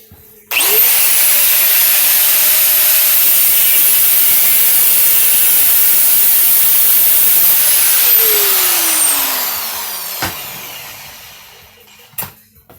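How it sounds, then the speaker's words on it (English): A 4.5-inch grinder with a cutting wheel cuts threaded rod for a wooden toy tank build: a loud, sustained high whine that holds steady, then winds down as the wheel spins to a stop, followed by a couple of clunks. "really any grinder that you could buy at the store will cut it"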